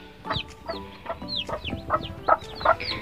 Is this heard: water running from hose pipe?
no